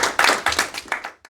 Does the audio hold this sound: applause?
yes